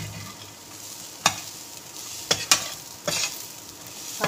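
Cashews, raisins and grated coconut sautéing in a pan with a soft steady sizzle, broken by a few sharp scrapes of a stirring spoon at irregular intervals.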